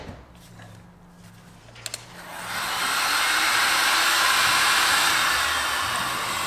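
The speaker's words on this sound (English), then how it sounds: "Actually got a little heat gun here" A small heat gun runs on a 240 volt hookup, switching on after a few faint clicks and settling into a loud, steady blowing hiss that holds to the end.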